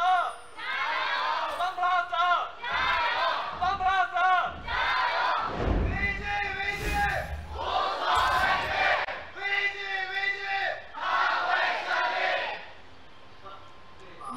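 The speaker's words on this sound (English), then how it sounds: "You just heard the crowd there going" A crowd at an LPL Summer Split League of Legends match between FunPlus Phoenix and Vici Gaming chants loudly in rhythmic, repeated phrases, with brief gaps and a dull thump midway between chant bursts.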